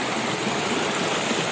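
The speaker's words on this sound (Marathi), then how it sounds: "बघू शकतात वॉटरफॉलचं पाणी खालीपर्यंत येतं आहे।" Waterfall water pouring down into a rocky forest stream at Kharghar, Navi Mumbai, a steady broadband rushing wash that holds even and loud throughout, with no voices.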